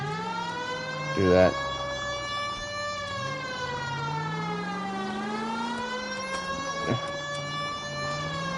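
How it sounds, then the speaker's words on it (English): A wailing police car siren in the LA Noire game rises and falls continuously and loudly, with a character's brief voice heard over it. "Can't you tell the siren's on?"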